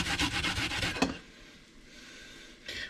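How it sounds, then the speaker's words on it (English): An onion is grated by hand on a grater for cepelinai, a quick run of close, rhythmic rasping strokes that stops abruptly, leaving near quiet, then a single stroke starts again at the end. "if it becomes too hard, then you can stop grating the onion for a bit"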